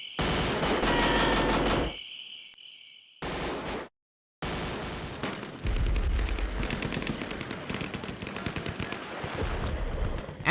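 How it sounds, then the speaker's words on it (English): Rapid automatic gunfire and bursts of shooting fill the video game NAM (1998). The rattle comes loud and dense, breaks off into brief silences, then resumes with repeated crackling volleys. "gunfire in the distance."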